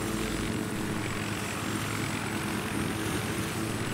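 A helicopter in the video game Battlefield 3 gives a continuous, dense rotor and engine roar that stays loud and steady throughout, with no talking.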